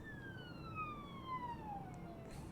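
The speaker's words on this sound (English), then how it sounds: "Ambulance." An ambulance siren passes by outside, a single falling wail sweeping down in pitch over a couple of seconds, moderately distant and faint against steady background hum.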